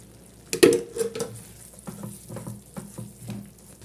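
A teaspoon of ghee goes into a North Indian sweet cooking in a pan on a low flame, giving a soft sizzle with stirring, spoon clatter and scraping close by.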